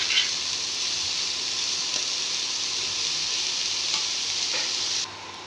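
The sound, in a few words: greens frying and being stirred in a pan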